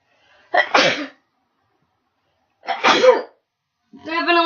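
Two sharp sneezes, spaced apart with silence between, then a voice begins speaking right after.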